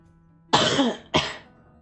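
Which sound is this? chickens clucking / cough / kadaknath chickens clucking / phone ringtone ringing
cough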